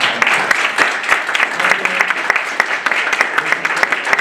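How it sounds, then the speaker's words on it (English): A roomful of convention attendees gives a round of applause for a publishing panel, steady close clapping with distinct individual claps standing out and a little voice under it. "I just wanted to formally allow you to give a round of applause for the panelists"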